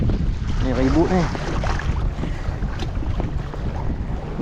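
Storm wind buffets the microphone on a kayak near the coast, a loud continuous rumbling roar with a person talking over it briefly.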